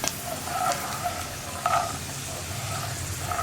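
Peanuts frying in hot oil for a sweet aval (flattened rice) mixture, giving a steady close sizzle with occasional stirring clinks and scrapes, and no talking.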